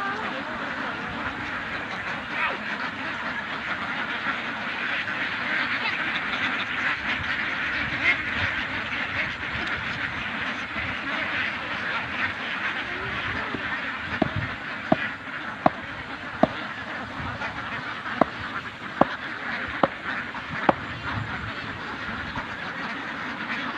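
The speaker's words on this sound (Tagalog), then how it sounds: "ito na po yung mga alagang itik natin" A flock of farm-raised ducks quacks outdoors in the late afternoon, a continuous busy chatter of calls with a few sharp clicks near the end.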